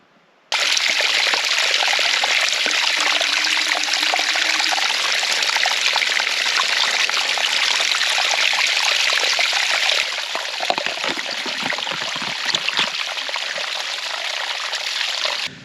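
Water trickles and gurgles steadily through a dug drain in a Sitka spruce plantation, close and continuous, with the flow changing character partway through.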